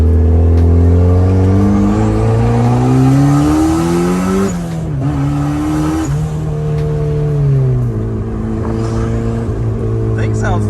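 A turbocharged Mazda Miata with a flex pipe exhaust drones and revs loudly up close, its pitch climbing and dipping through several throttle blips over about ten seconds.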